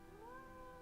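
A cat in the Nancy Drew: Mystery of the Seven Keys video game gives a single short, rising meow, clear but quiet, heard alone over a faint steady background.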